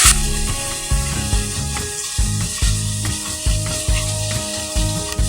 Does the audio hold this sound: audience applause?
no